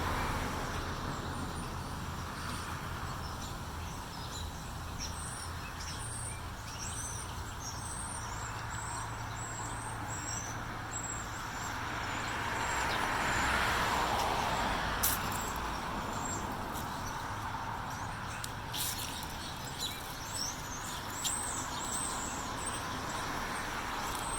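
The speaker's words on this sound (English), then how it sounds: "You may also hear the sounds of cars going by because the road is very busy." Steady road noise with vehicles rolling past at a distance, a swell around the middle as one passes closer, and birds chirping faintly above.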